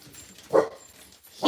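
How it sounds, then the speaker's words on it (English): Dogs bark indoors, giving two short, loud barks spaced about a second apart over quiet room background. "Now you get the dogs barking."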